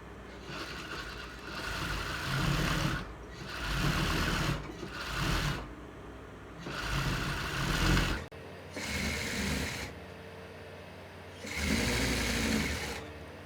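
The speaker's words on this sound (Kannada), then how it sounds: "ಎರಡೂ ಬೆಲ್ಟನ್ನು ಒಂದೇ ಸಾರಿ ನಾನು ಕಟ್ ಮಾಡ್ತಿದ್ದೀನಿ, ಸ್ಟಿಚ್ ಮಾಡ್ತಿದ್ದೀನಿ" A sewing machine stitching two blouse belts with lining fabric, running in repeated close bursts of steady mechanical whirring, each a second or two long, with short pauses between runs.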